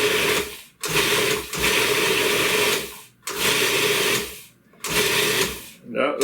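Food processor pulsing butter into a crumb topping for an apple walnut ginger coffee cake: four loud whirring bursts of a few seconds each, separated by short pauses, with no talk in between.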